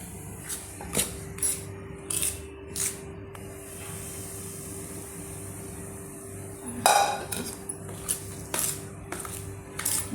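A spoon scrapes and clinks against a pan in irregular strokes as dry pickle spice mix is stirred and roasted, close by with a steady hiss underneath.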